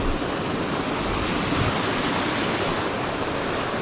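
A waterfall beside a mountain road on the Rohtang to Chandratal route pours in a loud, dense, steady rush of water, close and unbroken, with no voices.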